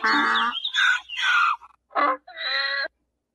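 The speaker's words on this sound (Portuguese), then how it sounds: "parece ser ali o som de quê? Parece ser de um jumento ali" A donkey's harsh, honking bray in several heaving bursts, loud and close, with short gaps between the calls.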